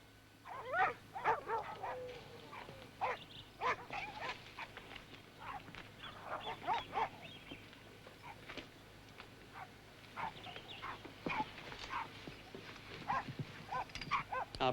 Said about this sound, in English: They're barking at you.